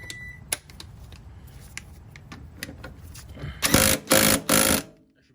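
A ratchet on a swivel tightening an 18mm bolt on a second-generation Hellcat Charger. Scattered light clicks and taps lead into three loud bursts of rapid ratcheting near the end, close by, with no talking.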